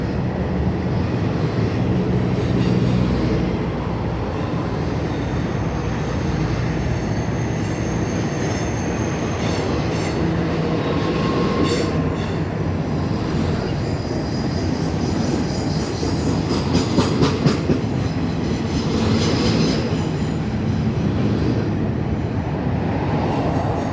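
A Union Pacific freight train passes close by, a loud continuous rumble of railcars rolling on the track with wheel squeal and clicking over joints, and no voices.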